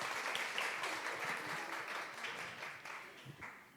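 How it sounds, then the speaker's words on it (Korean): An audience at a gender-equality roundtable applauds to welcome a presenter, a faint, steady patter of many hands clapping throughout, heard from some distance. "박수로 환영해 주시기 바랍니다"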